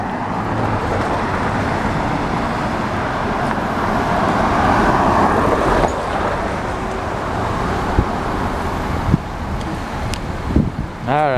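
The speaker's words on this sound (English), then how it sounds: "let's see the traffic coming this way now" Road traffic on a Haddonfield, New Jersey street in December, a continuous wash of passing cars and a bus with wind buffeting the microphone, a swell as vehicles go by and a few sharp knocks near the end.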